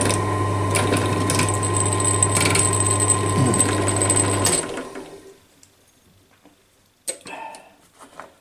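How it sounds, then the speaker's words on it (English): An electric drill biting into a broken bolt, a loud steady motor whine with grinding for about four and a half seconds, then it stops and a few clicks and clunks follow. "Let's see if this drill will drill this bolt."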